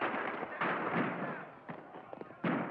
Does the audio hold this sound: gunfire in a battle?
yes